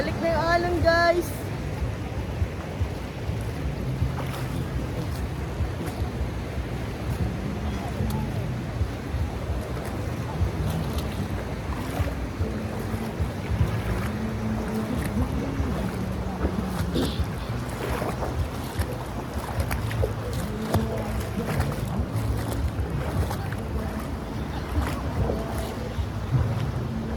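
Sea waves slapping around a small boat on a ride off Calatagan, Batangas, mixed with a steady engine drone and heavy wind buffeting the microphone, continuous and fairly loud throughout.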